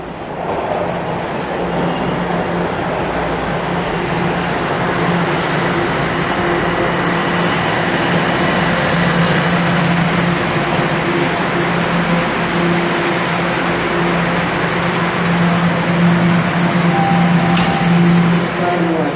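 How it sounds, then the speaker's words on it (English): Train in downtown Toronto near King and Queen rolls into a station with a loud, continuous rumble, joined midway by thin high-pitched wheel squeals that come and go over the steady roar. "Oh, that's my train rolling in."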